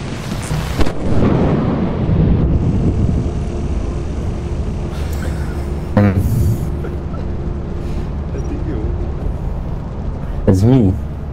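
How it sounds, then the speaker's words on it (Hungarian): Thunder rumbles in the video game Lethal Company, a long rolling boom that swells near the start and fades slowly, with people talking over it and a few sharp bursts later on. "Mi az a villám, bazeg?"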